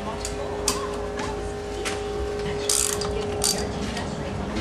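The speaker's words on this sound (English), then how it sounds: "I like to use the trusty grunt tool to help take the spring cover fasteners off." A grunt ratchet tool clicks steadily as it removes the spring cover fasteners from a Ski-Doo 800 E-TEC clutch, producing a fast, continuous close-up ratcheting with a few louder ticks.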